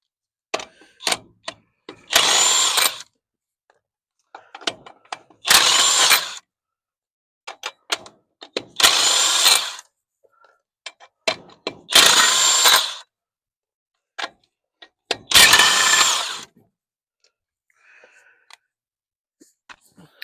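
An impact wrench buzzes in five short bursts, loosening lug nuts on an Austin Healey's space-saver wheels one after another, with clicks and clanks of handling in the pauses between.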